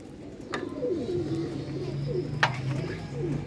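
Pigeons coo nearby in low, rolling, repeated calls, with a few sharp knocks or clicks mixed in and soft background noise throughout.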